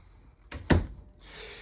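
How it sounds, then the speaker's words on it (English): A full-extension ball-bearing drawer with a plywood box in a 2023 Forest River Alpha Wolf 26RL-L travel trailer slides and stops with a single short thud, fairly close and alone, with faint room noise after. "ball bearing drawer, got a drawer right there."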